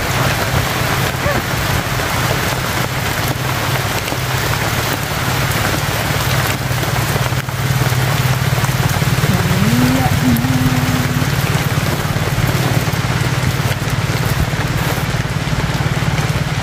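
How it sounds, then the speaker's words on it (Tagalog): Heavy rain pours steadily at an outdoor solo picnic, a dense continuous hiss of drops on surfaces with a low rumbling undertone and a brief faint tonal sound midway. "Grabe na ang ulan."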